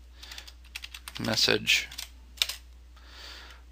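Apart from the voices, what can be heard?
typing a command on a computer keyboard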